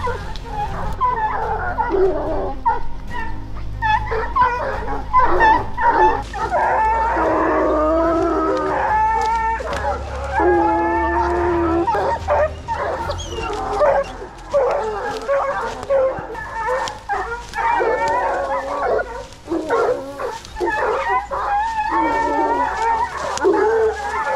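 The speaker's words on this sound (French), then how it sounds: "tous les chiens sont heureux criants" A pack of hunting dogs bays and yelps excitedly while working a wild boar trail in the woods, with overlapping barks, whines and howls close by that carry on for the whole stretch.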